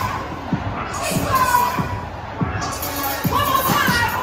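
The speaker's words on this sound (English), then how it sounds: "It's a large crowd." A large crowd at a Kamala Harris concert cheers and shouts in a steady roar, with sharp bangs or claps recurring roughly every second.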